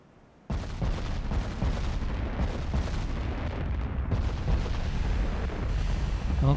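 Battleship main guns in the naval game Ultimate Admiral: Dreadnought fire in a long rolling barrage, deep booming blasts layered into a continuous heavy roar after a brief quiet start, loud and sustained.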